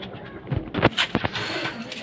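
A pet pigeon, one of the first pigeons kept at a home loft, gives a few short, soft coos near the microphone over low room noise, with brief handling thumps mixed in.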